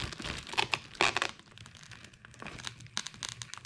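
A thick layer of Plasti Dip rubber coating is peeled away in close crinkling, tearing bursts, loud at first and then in softer intermittent rips.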